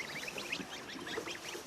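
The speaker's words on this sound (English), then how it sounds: "They're not baby swans, these are baby geese. They're goslings." Baby geese (goslings) peep in a dense, continuous chorus of high, overlapping calls, fairly close and steady throughout, with no talking.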